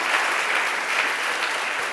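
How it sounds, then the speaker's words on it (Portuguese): A church congregation claps together, a dense, steady wash of applause lasting about two seconds with no voice over it. "Você pode aplaudir a Deus pela vida desses irmãos?"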